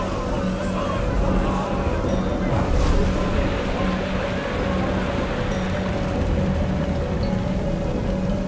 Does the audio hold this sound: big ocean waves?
yes